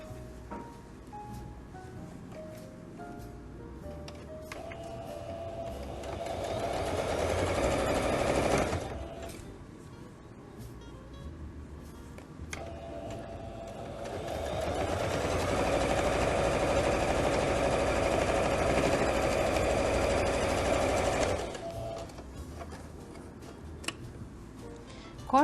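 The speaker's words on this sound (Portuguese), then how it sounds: "E vou costurar somente a parte superior, um pezinho de máquina." A sewing machine stitching the top edge of a bag lining over a quilted batting layer, running steadily for two long bursts with a short stop between them, close and clear with no talk.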